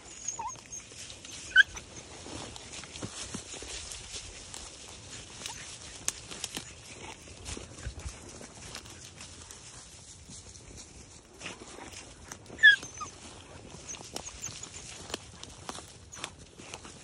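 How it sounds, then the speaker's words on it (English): A pack of hunting dogs working outdoors in tough conditions, heard as scattered faint yelps and whimpers against a quiet field background, with occasional louder barks and rustling footsteps. "That's what a pack of dogs is supposed to do."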